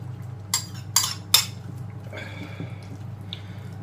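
A potato and mushroom mixture for gorshochki is spooned into a clay pot, three bright metallic scrapes and clinks of a spoon followed by softer wet squishes and light taps.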